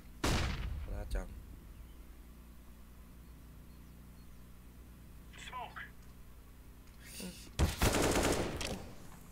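Bursts of video game gunfire from an AK rifle, a sharp loud volley at the start, a faint crackle midway and another heavy burst near the end, with quiet stretches between.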